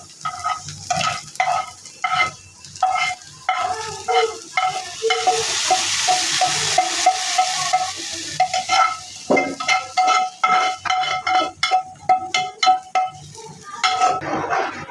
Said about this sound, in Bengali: এই ফাঁকে আমি এই পাশে বাগারের জিনিসগুলোকে একটু বেরেস্তার মতো করে নিচ্ছি।